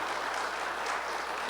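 Congregation applauding the Hosanna praise team in a church service, a sustained, even wash of many hands clapping that fills the whole stretch without a break.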